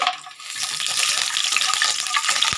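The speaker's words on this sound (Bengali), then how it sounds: "বড়িটা আমি ভেজে নেবো" Bori lentil dumplings fry in hot oil, giving a dense, continuous close-up sizzle and crackle that holds steady for a couple of seconds.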